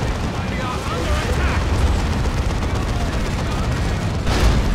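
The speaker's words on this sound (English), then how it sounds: "Manticore Strike goes in." Dense, continuous rumbling blasts from a Manticore Strike in the real-time strategy game Dawn of War II: Retribution, with explosion noise layered throughout under a commentator's voice.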